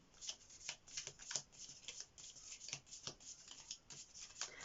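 A deck of tarot and wellness cards is shuffled by hand up close, a quick, uneven run of papery riffles and rubs with no voices.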